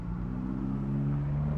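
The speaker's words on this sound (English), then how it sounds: "there is a very nice Caterham going past, which looks great." A Caterham sports car drives past a junction, its engine a low, throbbing rumble with a steady hum rising slightly in pitch, heard briefly from inside another car.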